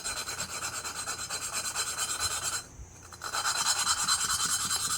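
Valve being lapped with abrasive compound on a Briggs & Stratton 21HP Intek engine, a soft, steady back-and-forth rubbing rasp close up, briefly pausing partway through before carrying on.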